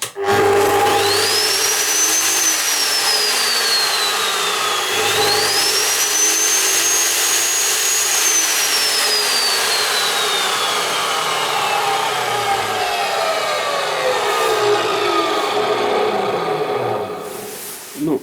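A Bosch GCO 14-24 J metal cut-off saw runs loud and close, its high whine rising and falling as the blade bites and eases, then winds down at the end.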